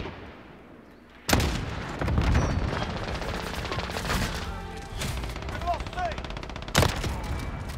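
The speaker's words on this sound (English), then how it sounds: "Enemy cluster strike incoming." Booming explosions and heavy gunfire from a cluster strike in an online shooter game, opening with a sudden loud blast, then dense rolling bursts and a second sharp boom near the end, under occasional game voice chatter.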